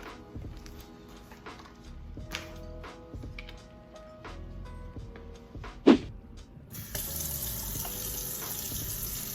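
Soft clicks and knocks at a kitchen counter, including one sharper bump, lead into a tap turned on for hand washing. A steady stream of running water fills the final seconds.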